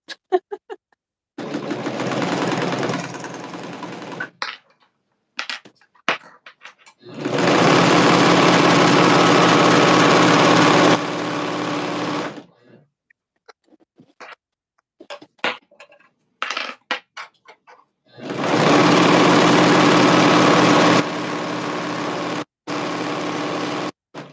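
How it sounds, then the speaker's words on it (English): A regular home sewing machine runs a zigzag stitch on a skirt in three long, steady whirring runs, separated by quiet gaps filled with small clicks and handling noises. "I'm gonna use a regular sewing machine, but do a zigzag stitch."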